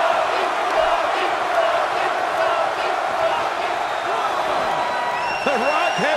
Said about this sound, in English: The Rock has this crowd wrapped around his finger